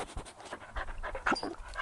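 A dog pants close by in quick, breathy bursts, a short rhythmic run of huffs with no voices over it.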